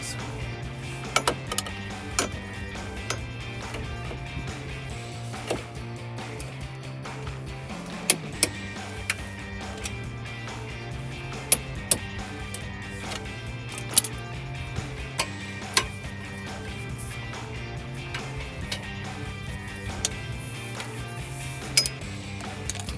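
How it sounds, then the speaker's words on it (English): Torque wrench ratcheting on Jeep Wrangler suspension bolts, sharp scattered clicks and ticks over a low steady mechanical hum, close and fairly quiet. "we're going to take a torque wrench and we're going to set it to 89 foot-pounds"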